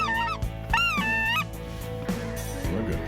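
A flock of specklebelly geese over a California hunting field, giving several loud, wavering honks in quick bursts that stand out over a low rumble of background noise.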